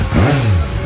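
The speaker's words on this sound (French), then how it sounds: "tu vas démarrer ta moto." A motorcycle engine revs up briefly, a loud, close rising-and-falling drone lasting under a second.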